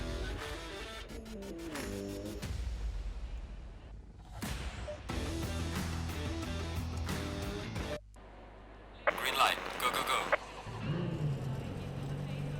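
An Audi R8 V10 GT3 race car in Assetto Corsa Competizione revs hard and climbs through the gears with brief drops between shifts, loud and close throughout.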